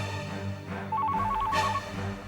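A telephone rings indoors with a bright warbling electronic trill, one burst rising over a quiet background.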